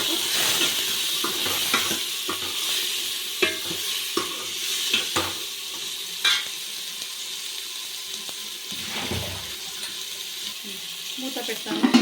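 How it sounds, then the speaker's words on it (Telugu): Brinjal pieces fry in hot oil in a pan, with a soft continuous sizzle broken by repeated scraping stirs and clinks of a utensil, close and moderately quiet. "వంకాయని ఫ్రై చేసుకోండి."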